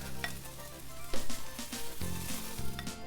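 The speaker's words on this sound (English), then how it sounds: "Let's get this cooked down now. It's been about 8 minutes. I've been stirring it the whole time." Food sizzles in a pan with a steady hiss while a utensil scrapes and stirs in repeated strokes, close and moderately loud, with a low hum underneath and no speech.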